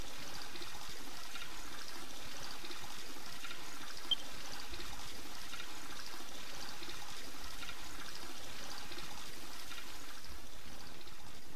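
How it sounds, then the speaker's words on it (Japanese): Running water rushes continuously in the Dragon Quest Builders video game, a steady hiss of flowing water, moderately quiet and unbroken, with no talking. "なんかすっげえ水の音聞こえんだけど、何これ。"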